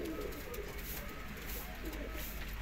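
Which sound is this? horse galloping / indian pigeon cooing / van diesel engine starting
indian pigeon cooing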